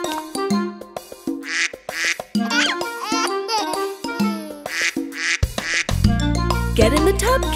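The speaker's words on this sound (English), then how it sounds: "Quack, quack! The ducks are here!" Cartoon ducks from a children's sing-along song quack in short, bright, repeated bursts over a playful musical backing, closing with a sustained chord.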